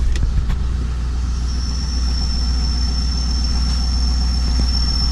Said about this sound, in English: Comes the high idle.